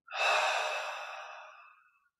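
A slow, deep exhale released after a held breath in a guided relaxation exercise, a single soft airy breath that swells quickly and tapers away over about two seconds, close and alone.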